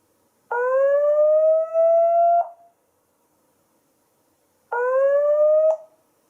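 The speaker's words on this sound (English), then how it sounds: "Now here's a manual alarm that you can use to scare off someone." A security camera's manual alarm: a loud electronic siren wails in two rising bursts, each about two seconds long, separated by a short silence.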